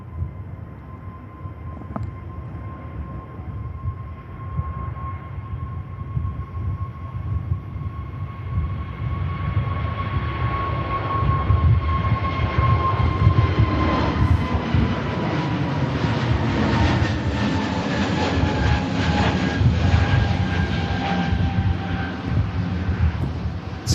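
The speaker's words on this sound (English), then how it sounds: "Scandinavian departing there off to Oslo." A Scandinavian airliner departing Manchester Airport for Oslo, a steady jet roar building over about twenty seconds with a whining engine tone and some wind buffeting on the microphone, heard alone.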